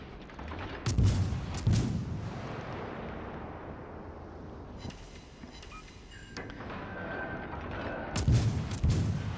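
Naval gunfire from the Japanese cruiser Katori in a World of Warships battle: heavy booming salvos near the start and again at the end, with a rumbling, noisy gap between them.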